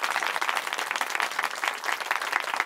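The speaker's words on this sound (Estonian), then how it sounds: "Aplaus palun ja." An audience applauding at a celebration for a newly completed project, a dense, steady patter of many hands clapping together, moderately close and sustained throughout.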